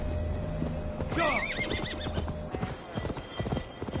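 Horse hooves clip-clop steadily in Assassin's Creed Valhalla while riding through a Gloucestershire forest, with a whinny partway through, over a continuous loud game ambience.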